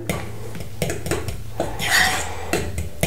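Dry ingredients being stirred into fruit and nut loaf batter in a bowl, with repeated scraping and clinking of a utensil against the bowl in an uneven rhythm, close and moderately loud, no voices.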